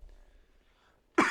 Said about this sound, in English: Wow, that coughing fit is lingering.